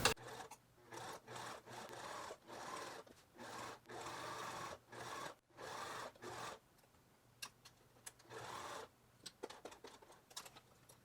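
A sewing machine stitches bias binding onto a linen blouse in short bursts, about a dozen evenly spaced runs of whirring stitching separated by brief pauses, then lighter intermittent clicks and stitches at the end, close and quiet with no talking.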